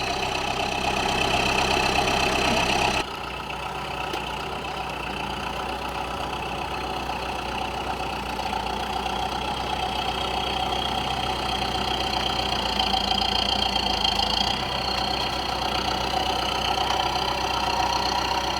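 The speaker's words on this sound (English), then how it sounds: "we're going to load this tote into that truck with this tractor." A diesel tractor engine idles steadily with a low, throbbing rumble, close and continuous, with a brief shift in tone partway through.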